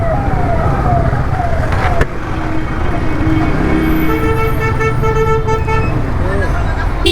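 An ambulance stuck in congested traffic sounds its horn and wailing siren nearby, rising and falling over engine rumble, while someone shouts and talks over it.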